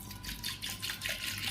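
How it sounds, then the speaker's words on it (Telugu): Water is poured from above into a pot of washed lentils being prepared for pappucharu, making a brief, steady splashing rush with no voices. "ఇప్పుడు దీంట్లో మనం వాటర్ వేసుకుందాం."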